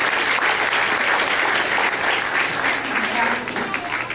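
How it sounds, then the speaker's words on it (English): Audience at a school award ceremony applauding an Artist of the Month, a loud, continuous wash of clapping from a crowd with a few voices mixed in, fading slightly near the end. "Let's give our Arby's Artist of the Month a big round of applause."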